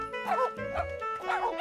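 Several dogs bark and yip playfully in quick, excited bursts, close by, with some whimpering between barks.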